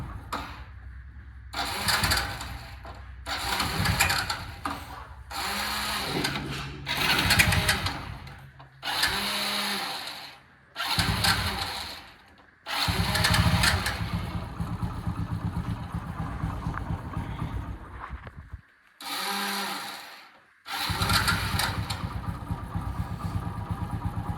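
A vehicle engine that has sat unused for two days is cranked with its electric self-starter in a series of loud, close bursts separated by short pauses, some catching briefly into a rough running sound before stopping.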